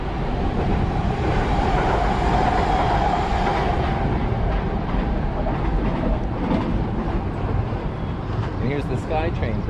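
A SkyTrain rumbles across a bridge near a waterside gravel path toward Richmond, a steady loud rolling roar held throughout with wind-like noise and voices mixed in.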